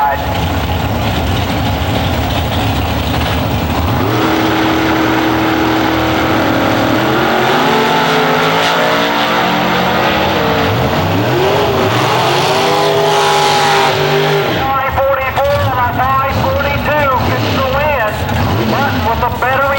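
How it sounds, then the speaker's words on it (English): A 500 cubic inch nitrous-assisted Beretta Pro Mod drag car at an IHRA drag race thunders with a loud, sustained engine roar that rises and wavers, and a voice comes through toward the end. "500 cubic inch, the machine, the Beretta, with a little assist of nitrous oxide."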